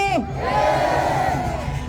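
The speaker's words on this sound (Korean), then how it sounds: "마지막으로 함성 소리 한 번만 더 지르고 갈까요?" Crowd of young patriotic rally-goers letting out a sustained collective shout, a loud massed roar that swells and holds for under two seconds after a brief voice at the start.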